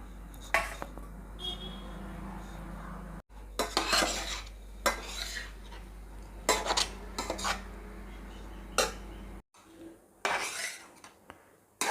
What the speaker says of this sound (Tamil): இப்போ சாதத்தை இதில் போட்டு கிளறிக்கணும்